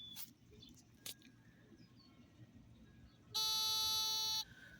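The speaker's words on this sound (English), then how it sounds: "So it buzzes for about a second every 15 seconds, and that's supposed to be enough to drive them out of your yard" A Victor sonic mole and gopher repeller made of thin ABS plastic, set in the ground, gives one steady high buzz lasting about a second amid quiet outdoor background with a few faint clicks.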